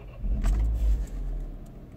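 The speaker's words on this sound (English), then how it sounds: "this is a cold start the following morning" A Citroen DS3 with the THP engine idling on a cold morning start, a steady low engine rumble close by that swells briefly and then settles into an even idle, with no voices.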